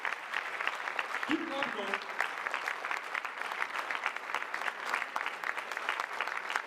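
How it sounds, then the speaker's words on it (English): An audience at an event in Abuja breaks into steady, continuous applause that fills the room, with a voice speaking briefly over the clapping. "Let's put our hands together for that."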